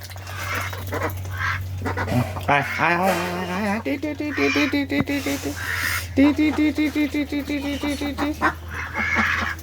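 Several egg-laying ducks quack in rapid bursts and runs, close and fairly loud, with a steady low hum underneath and occasional voices nearby.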